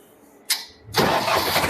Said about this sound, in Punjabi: ਇੱਕ ਵਾਰ ਮੜਿਆ ਟਰੈਕਟਰ ਸਟਾਰਟ ਕਰਕੇ ਦਿਖਾਓ